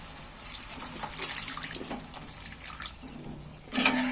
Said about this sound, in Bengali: এইবার আমি ফের জল দিয়ে দিচ্ছি